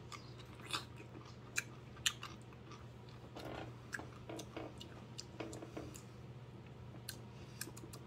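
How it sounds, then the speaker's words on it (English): Crunchy bites and chewing on a Van Holten's pickle, a series of sharp crisp crunches spread unevenly over steady low background hum, close and fairly quiet, with no talking. "I will give it that it is quite crunchy. It does have a good bite to it when you bite into it."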